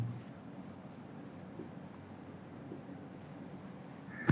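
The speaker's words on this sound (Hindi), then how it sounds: "बल्कि मैं वहाँ लिख देता हूँ" Marker or chalk writing on a board during a lecture, soft scratchy strokes in short bursts over a quiet room hum, fairly faint, ending with a sharp tap.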